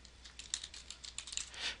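Someone types on a computer keyboard, producing a quick, irregular run of soft keystroke clicks at low volume, close by and with no other sound.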